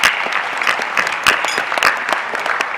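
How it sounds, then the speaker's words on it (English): An awards ceremony audience claps for a business awards event, a dense burst of loud, close applause with sharp individual claps throughout. "They deserve a round of applause as well."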